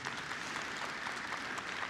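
Audience clapping at a church gathering, a steady, dense wash of applause from many hands that stays even and moderately loud throughout.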